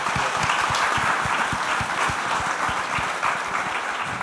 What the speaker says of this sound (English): Big round of applause for Beata.